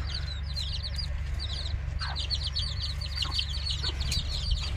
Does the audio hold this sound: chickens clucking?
yes